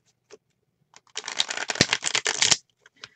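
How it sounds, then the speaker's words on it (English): A deck of tarot cards is riffle shuffled close by, a quiet tap or two followed by a dense, fluttering burst of cards interleaving for about a second and a half, then a couple of soft taps as the deck settles. "let's do a cut and then another riffle"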